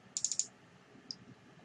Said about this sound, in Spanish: vamos a darle a clic a instalar